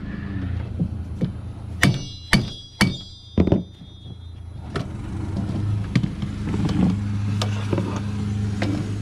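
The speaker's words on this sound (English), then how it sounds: "We're gonna use a mallet on there." A mallet strikes a 2018-2024 Nissan Armada windshield during a replacement: four or five sharp, close knocks in a quick cluster, with softer taps after, over a low idling engine hum.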